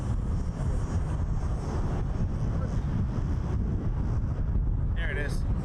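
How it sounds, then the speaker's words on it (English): An Emirates airliner passes over the airfield at Toronto Pearson, its engine roar a steady, loud broadband rumble mixed with wind buffeting on the microphone throughout, with a brief chirp near the end. "we're gonna look for Emirates because it's flying over the field."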